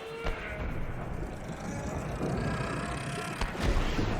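A rumbling explosion in the Subnautica 2 video game, a dense, sustained roar with a few sharper thumps at the start and near the end, heard alone without talk.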